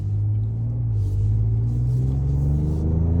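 A Ford Ranger Raptor's 300 hp V6 revs in sport mode, a deep steady rumble that climbs slowly in pitch, loud and close with no talking.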